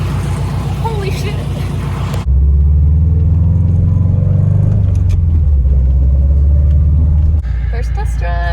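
A car's engine on its first test drive after fitting ID1050X fuel injectors, a loud, steady low rumble that rises and falls with driving, with voices at the start.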